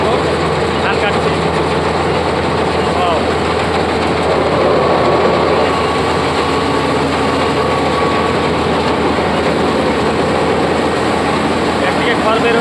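A combine harvester runs loudly and steadily, cutting a rice paddy on its first day of harvesting. The dense mechanical roar continues unbroken throughout, with a crowd of onlookers around it.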